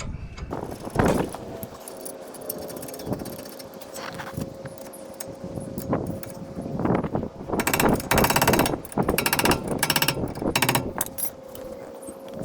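Brake caliper being bolted onto a 2009 Honda, with clicking ratchet strokes, metallic clanks and rattling parts close by in irregular bursts, no talking.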